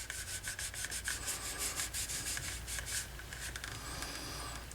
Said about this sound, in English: But with the cloth, I can work it in a little bit.